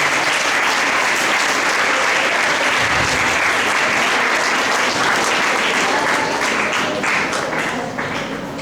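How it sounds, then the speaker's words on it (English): An audience at a college HR conclave breaks into loud, sustained applause, dense clapping filling the hall for several seconds before tapering slightly at the end. "Can all of us give a big round of applause for Patnayakuni?"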